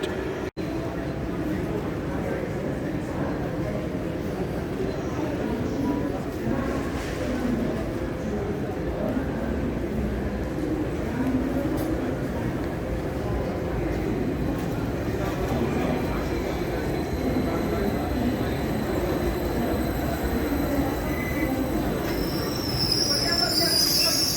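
A train rolls along the rails with steady rumbling and high metallic wheel squeal, continuous and fairly loud throughout.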